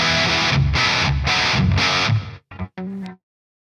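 A heavily distorted electric guitar through a Revv Generator 100R MK3 amp, reverb knob at midpoint, plays chugging, pulsing chords, then a few short stabs that stop abruptly, leaving silence at the end.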